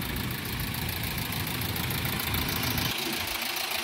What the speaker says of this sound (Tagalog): So ito yung engine ng electronic 450.